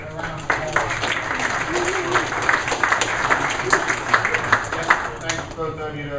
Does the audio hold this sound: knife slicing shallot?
no